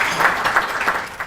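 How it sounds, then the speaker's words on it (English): An audience at a business summit media conference gives Michael a continuous round of applause, with the clapping dense and even throughout. "Please, let's have a loud round of applause for Michael and the 4 corporate members of the Australian Business Summit Council"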